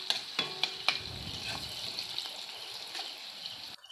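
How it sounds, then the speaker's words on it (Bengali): Chopped onions with green chilli and salt sizzle steadily in a pan, with a few sharp scrapes and clicks of stirring early on, close and fairly quiet. "পেঁয়াজটা কিন্তু এখন লাল করে ভাজা হয়ে গেছে।"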